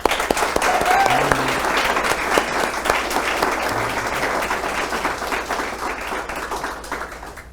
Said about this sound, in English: Round of applause, congratulations